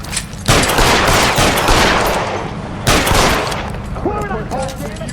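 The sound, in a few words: gunfire in the video game L.A. Noire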